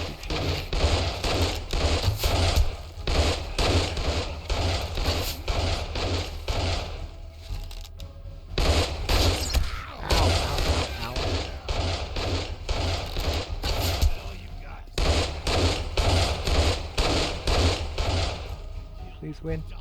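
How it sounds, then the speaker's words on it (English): Dense, continuous gunfire from the video game The Wasteland, rapid bursts of shots stacked over a loud rumbling game soundscape with no clear pause for nearly twenty seconds. "Please keep shooting."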